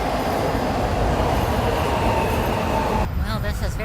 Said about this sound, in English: there's a train pulling in right now